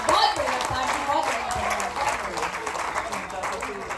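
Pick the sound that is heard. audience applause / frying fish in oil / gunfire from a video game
audience applause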